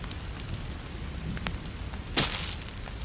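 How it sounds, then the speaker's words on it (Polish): Steady rain falls in the forest survival game The Forest, a dense, even patter with scattered drops and a brief sharper burst near the end, no voices. "Że postać się jakby trzęsie, kiedy deszcz pada."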